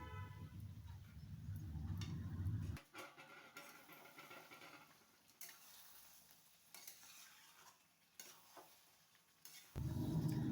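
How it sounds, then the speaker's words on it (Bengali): Goat meat curry with freshly added tomato paste is stirred in a pan, a loud low scraping churn at the start and again at the end, with quieter clinks and soft frying in between. "টমেটোর পেস্টটা দিয়েও আমি আবার একটু ভালো করে নাড়াচাড়া করে নিচ্ছি।"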